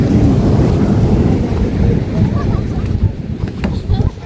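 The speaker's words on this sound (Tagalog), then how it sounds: "Buti naman po at mahangin." Strong gusty wind buffets the microphone at the Bangui windmills on the coast, a loud continuous roar with low rumbling gusts that eases slightly near the end.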